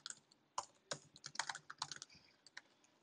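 Quiet keyboard typing nearby: irregular clusters of light key clicks in quick bursts, soft and close, with no voices.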